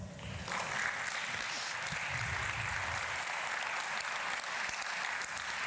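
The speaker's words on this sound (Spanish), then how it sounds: "Recibimos con un fuerte aplauso a Paulina López." A crowd at a talk on social participation and river recovery applauds steadily to welcome the speaker Paulina López, a dense, even wash of clapping that holds for several seconds.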